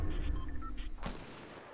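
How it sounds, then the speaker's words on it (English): Gunfire in Fortnite, a short burst of shots in the first second followed by a single louder crack, heard during a squad match with faint background game sound. "They're shooting at us."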